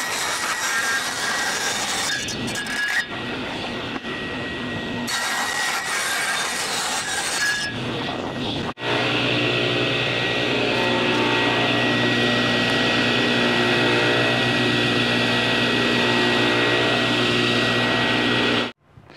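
Table saw ripping wooden pieces for a four-way mating nuc beehive box, a loud continuous whine and rasp of blade through wood, broken by a couple of short pauses, then a long steady cut near the mic.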